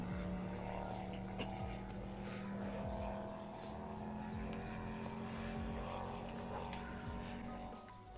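Steady drone of a fishing boat's motor running ahead in the Professional Fishing video game, a continuous low hum with a whining overtone and the hiss of water, loud and unbroken throughout.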